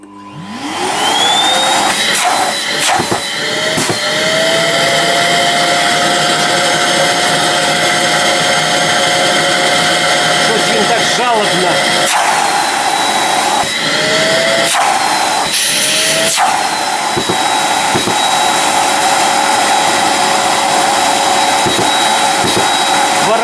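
A Bosch GAS construction vacuum cleaner switches on, its motor whining up to speed within the first seconds, then runs as a loud, steady drone, with a few brief changes in pitch and tone as the airflow is varied.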